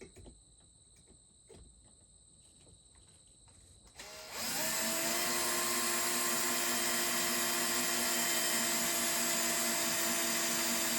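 A power drill bores through metal in an RV wall: after four seconds of quiet room tone, a loud, steady high-pitched whine starts abruptly and holds, close and unbroken, to the end.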